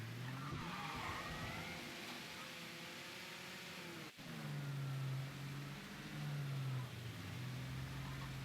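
A car in Mafia III revving and skidding, with a long tire squeal and a rising, falling engine whine, a brief thud partway through, then more engine drone and screeching.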